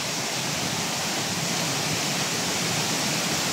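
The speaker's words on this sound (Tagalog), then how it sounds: "Ito yung falls." A waterfall at Kasabangan in Cabucgayan roars as a steady, loud, dense rush of falling water, unbroken and close by, with no voices over it.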